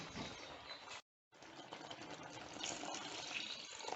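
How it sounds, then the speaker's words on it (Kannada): Water gushes from a tap or vessel into a pan of mushroom masala curry, a loud steady pour broken by a short pause before it resumes and continues. "ಚೆನ್ನಾಗಿ ನೀರು ಕೂಟಿಯೋಳಿ"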